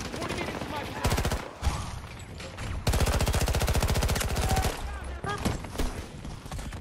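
Battlefield 2042 gunfire on the Haven map, with rapid automatic bursts of rattling shots, loud and close, separated by short pauses, and game voices heard in the background.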